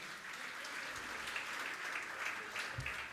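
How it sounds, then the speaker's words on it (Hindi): Sustained, fairly faint applause fills a religious gathering hall in Sehore, Madhya Pradesh, with an even wash of many hands clapping and no speech over it. "मैं चाहूँगा ऐसे व्यक्तित्व के लिए आप जोरदार ताली बजाकर उनका सम्मान करें।"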